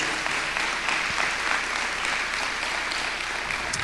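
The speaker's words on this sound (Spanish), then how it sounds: "Démosle fuerte ese aplauso al Señor." A church congregation applauds during a worship service, an even, continuous patter of many hands at moderate volume, heard alone without talking.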